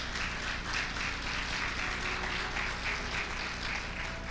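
A church congregation applauds during worship, a steady, faint wash of clapping with a rhythmic pulse, a low hum running beneath it throughout.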